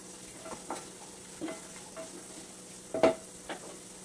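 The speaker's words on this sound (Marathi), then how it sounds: "परत हे सर्व मिक्स करून घ्यायचे" Peas and sweetcorn with sugar and salt are mixed in a pan for vegetable upma, making a low sizzle with a handful of near scraping stirs, the strongest coming in a quick double stroke, and no talking.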